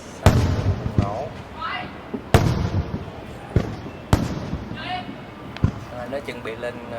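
Over Saigon during the 30/4/2025 celebration, fireworks go off in loud, sharp thumps a second or two apart, with people talking in between.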